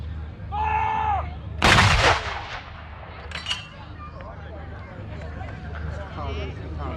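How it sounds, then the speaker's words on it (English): A 25-pounder field gun fires a single loud, sharp blast with a rumbling tail, preceded by a short tonal call and set against a steady low background hum. "So with a 25 pounder, obviously now they're firing it with a brass case."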